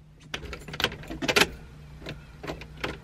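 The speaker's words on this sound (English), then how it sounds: "and I put the key in the ignition." Car key jangling and sliding into the ignition inside a parked car on a chilly day, close metallic rattles and clicks in short clusters, then quieter taps.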